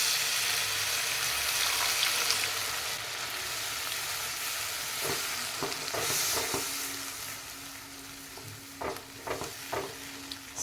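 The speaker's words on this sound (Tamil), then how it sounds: "நான் வாட்டர் ஆட் பண்ணுறேன்" Steady loud sizzling as water is added to egg masala curry frying in a pan, with stirring clinks and scrapes toward the end; no voices.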